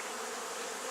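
A honey bee swarm being moved into a top bar hive buzzes in a dense, continuous drone, close and unbroken for a brief moment.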